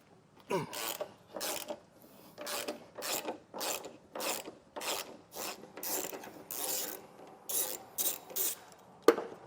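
Rapid metallic clicking of a ratchet wrench removing bolts on a 2021 Cadillac XT6 in repeated bursts, about a dozen strokes with short pauses between, close up and fairly quiet.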